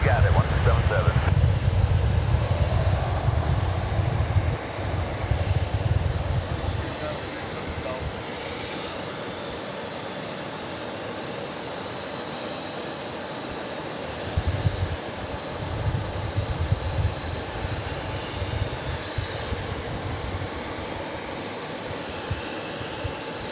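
An airliner takes off from runway 13 left at Dallas Love Field, a steady broad jet roar that swells and then gradually fades, heard from a distance with voices talking over it.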